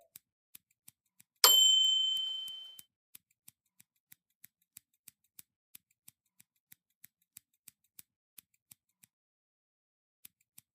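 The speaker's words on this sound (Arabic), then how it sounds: "هقصهم بالراحة كده بالمقص علشان المنديل ما يتقطعش" Scissors snip slowly and carefully through a paper napkin, producing a long series of small, evenly spaced clicks, with one louder ringing metallic ding near the start.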